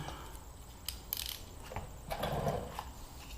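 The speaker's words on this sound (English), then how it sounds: "And you just want to undo the 2 bolts." A ratchet loosening the brake caliper bolts on a 2007 or 2008 Honda CBR600RR motorcycle, quiet irregular clicks and short scraping bursts, close by with no voices.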